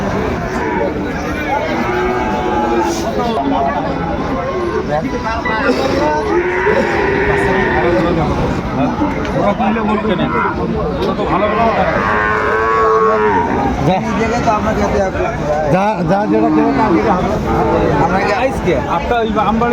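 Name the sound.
Sahiwal cattle at livestock market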